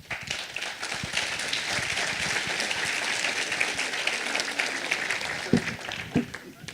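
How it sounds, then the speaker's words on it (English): A conference audience applauds at the close of a panel discussion, steady dense clapping sustained throughout with a few louder claps near the end, heard fairly close. "Big round of applause, please."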